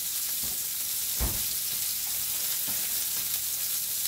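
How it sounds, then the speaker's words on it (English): Chicken frying in hot rice bran oil in a pan gives a constant close sizzle, with a few soft stirring knocks and scrapes breaking through now and then. "Rice bran oil in the pan, nice and hot, all sizzling away."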